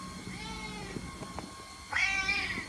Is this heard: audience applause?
no